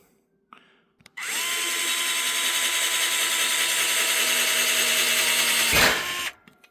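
An impact driver fitted with a drill bit starts after a couple of faint clicks and whines steadily at high speed for about five seconds, then winds down and stops.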